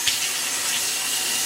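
Cold tap water runs in a steady, even hiss as bleached jeans are rinsed, close and continuous with no talking.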